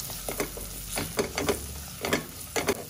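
Garlic, onion and dal powder frying in oil for a lentil rasam, with a steady close sizzle broken by repeated scraping stir strokes in irregular bursts, no voices.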